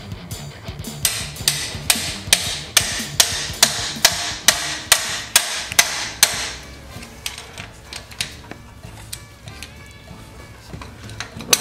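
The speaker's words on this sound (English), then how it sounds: "Hear that hammering out there?" Hammering outdoors, a rapid run of sharp, evenly spaced strikes for about six seconds, then scattered fainter knocks as it tapers off, fairly close and with no talk over it.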